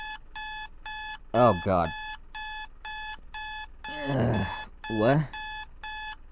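An alarm clock in a Doki Doki Literature Club mod rings in a steady train of bright, evenly spaced beeps throughout, while a person groans and speaks over it.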